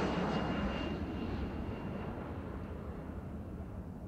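Airplane engine sound effect for a travel animation, a steady jet-like drone with a faint whine that starts loud and slowly fades as if passing away.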